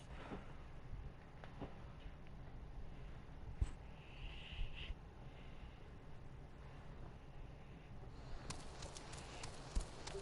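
Chocobo footsteps in Final Fantasy XIV, a steady soft clip-clop of running bird feet over a windy outdoor ambience, with a few sharper knocks standing out, no talking.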